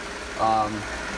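A 2016 Jeep Grand Cherokee Laredo's 3.6 liter V6 idles quietly and smoothly, a low steady hum close by, with a voice speaking briefly over it.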